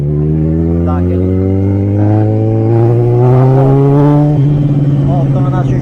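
A Yamaha XJ6 motorcycle engine revs nearby, its loud throbbing note climbing steadily in pitch through the middle before dropping back, strong and close with no talking over it.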